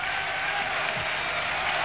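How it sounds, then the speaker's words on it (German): Applause and cheering from a football stadium crowd at half-time, a broad steady roar of clapping that holds evenly throughout. "donnernder Beifall zur Pause"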